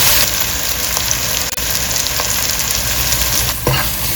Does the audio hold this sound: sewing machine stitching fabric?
no